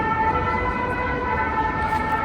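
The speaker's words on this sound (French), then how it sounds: "Désolé pour le bruit du camion pompier." A fire truck siren wails steadily in the street beside a parked Porsche 911 Carrera S, its sustained tone holding fairly loud over low traffic rumble for the whole stretch.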